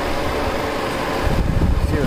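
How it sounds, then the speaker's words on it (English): Radiator fan on a 2003 Jeep Liberty 3.7L 4x4 spins with a steady, loud whooshing drone alongside engine hum, with faint handling noise close to the microphone. "Here we are, guys. Fan spinning."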